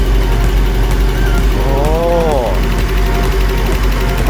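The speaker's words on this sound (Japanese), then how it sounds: "ちょっとタペットの音がうるさいかもしれんな。" An overhauled Nissan SR20 engine idles steadily up close with noisy tappets ticking, while a person talks over it and a brief rising-and-falling whine passes through the middle.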